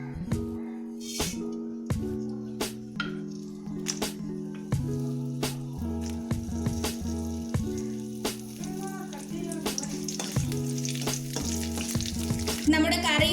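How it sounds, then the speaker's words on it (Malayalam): Mustard seeds and dried red chilies crackle and sizzle in hot oil for tempering a potato curry, a steady busy frying hiss dotted with sharp pops and stirring, close and continuous. "ഇനി നമുക്ക് കടുകും വറ്റൽമുളകൊക്കെ ഇട്ട് താളിച്ചെടുക്കാം."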